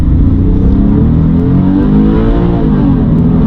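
Porsche 911 997 with Tiptronic automatic gearbox, engine loud and close as the car brakes, downshifts into second and takes a corner, a continuous throaty drone with rising and falling pitch.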